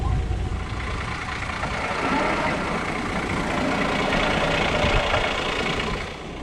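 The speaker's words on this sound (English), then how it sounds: "this winch is under extreme pressure and it's really struggling now to pull this out of here" A Domin8r Xtreme 4x4 winch strains under heavy load as it drags a Land Cruiser through dirt. A continuous, strained motor drone with a gritty rumble runs through the whole clip at close range, with no voices.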